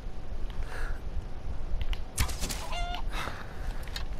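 A chicken in Skyrim clucks faintly amid quiet game ambience, with a few short clucks and a brief squawk near the middle.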